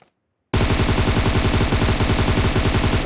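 Rapid automatic gunfire in the mobile battle royale game PUBG Mobile, a loud burst of evenly spaced shots starting abruptly after a short silence and continuing without break.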